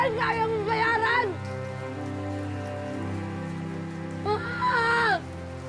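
Heavy rain pours down in a constant, even hiss throughout, while a distressed voice cries out over it at the start and again near the end.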